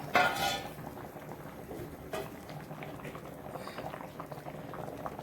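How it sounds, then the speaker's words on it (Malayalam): Prawn theeyal curry bubbles in a pot at a steady simmer, soft continuous blips and pops close by, opened by a brief clatter of a lid or utensil and a short metallic knock midway. "അപ്പോഴേക്ക് നമ്മുടെ കറിയൊക്കെ തിളച്ച് വന്നിട്ടുണ്ട്."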